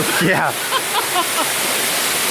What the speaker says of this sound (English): I've officially stepped in the waterfall